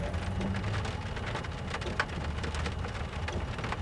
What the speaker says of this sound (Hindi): बारिश हो रही है, देख लीजिए।